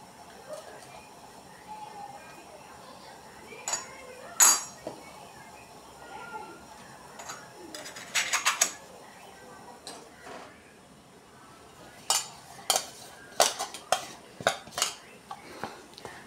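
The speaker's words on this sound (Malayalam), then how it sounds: "കുറ്റിയിൽ മാവ് നിറച്ച് ഇടുകയാണ്" Rice flour goes into a metal puttu steaming tube in a Kerala kitchen, with scattered sharp metallic clinks and taps, some in quick clusters, over a quiet background.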